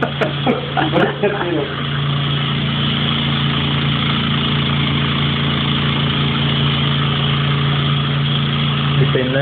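Motorcycle engine idling close by at an airbrush paint shop, a loud, steady low hum and rumble that runs continuously after a few short voices and knocks at the start.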